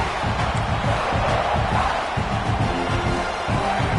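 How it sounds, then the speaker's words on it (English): A large crowd roaring continuously, loud and dense, like a packed stadium cheering without a break. "Listen to this crowd just shaking the girders of this place"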